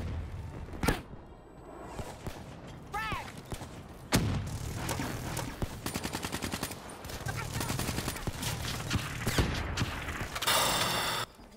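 Call of Duty: Black Ops 3 gunfire on Xbox One crackles in sharp single shots and rapid bursts, mixed with mechanical clatter and a rattling volley near the end.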